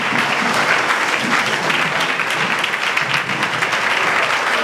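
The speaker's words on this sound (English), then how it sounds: "Stand up and clap for them." Students at a school reunion event applauding the host students, a loud, dense burst of many hands clapping together in a hall, steady throughout.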